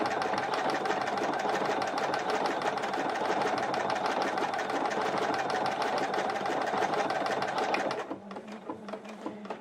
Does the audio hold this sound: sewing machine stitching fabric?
yes